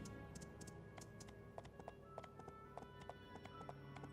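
Rapid, even clip-clop of horse hooves trotting along in the video game My Time at Portia, quiet and steady with a faint tonal hum beneath.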